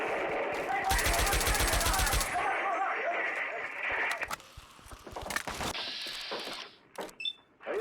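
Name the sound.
muzzle-loading gun fired out the window, radio drama effect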